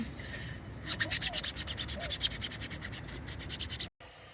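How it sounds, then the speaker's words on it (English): Rapid rhythmic hand sanding of 3D-printed parts, a steady series of scratchy back-and-forth strokes, close and fairly loud, ending abruptly. "so we're just sanding it a little bit so we can paint it"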